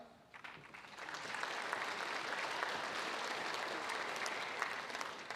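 Audience at a high school awards day claps for award recipients, a broad, even wash of many hands starting softly and holding steady, heard at a moderate distance.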